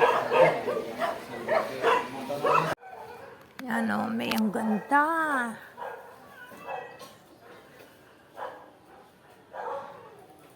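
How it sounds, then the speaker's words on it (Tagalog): Dogs at an animal shelter bark and whimper, several yips and howl-like whines rising over people talking nearby. "Ang dami-dami pa ng mga aso"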